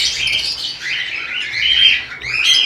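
Fischer's lovebirds in breeding cages chirping constantly, a dense overlapping chatter of many birds, close and loud.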